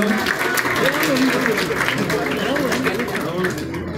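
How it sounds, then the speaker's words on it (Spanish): Audience applause at the Salón ANBA 2022 award ceremony, a continuous crowd clapping with cheers and voices rising over it, staying loud and close throughout. "Un fuerte aplauso para Luis Nazario."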